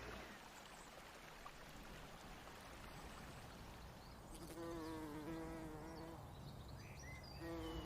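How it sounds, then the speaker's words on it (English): Bees buzz around pulmonaria flowers in a spring garden, a continuous soft droning hum from several insects close by, with one louder wavering buzz passing near partway through. "I'm surrounded here by this beautiful buzzing. These pulmonarias are full of bees."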